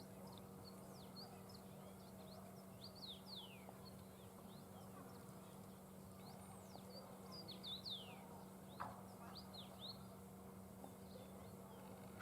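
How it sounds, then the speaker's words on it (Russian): Small birds chirp and tweet repeatedly in a quiet village, faint and distant over a low steady hum, with short calls scattered throughout. "Птички поют."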